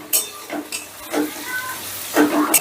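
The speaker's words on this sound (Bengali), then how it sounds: "ক্যাপসিকাম আর পেঁয়াজটাকে একটু নাড়াচাড়া করে নিয়ে" Sliced onion and large capsicum stir-fried in a pan, with sizzling bursts and scraping strokes of a spatula recurring every half second or so, close by, with a voice intermittently audible underneath.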